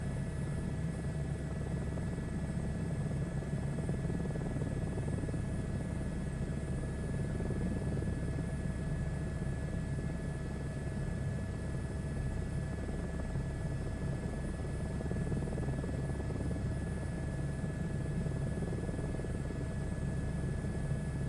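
A late-night flight aboard an aircraft, with a constant low rumbling drone and steady engine hum from inside the cabin, unchanging throughout and without any voices.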